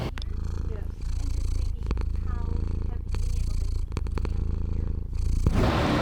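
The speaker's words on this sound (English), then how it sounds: "sweet sound of a purring cat" Close, continuous cat purring with a rhythmic rumble that pulses in cycles, steady and soft, with a rustle near the end.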